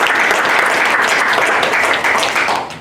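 Applause breaks out at a school board meeting: steady dense clapping from a roomful of people, close and loud, fading slightly at the end.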